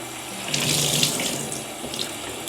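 Hot water pouring from a tap into a sink, a steady close splashing stream that swells slightly midway, with no voices.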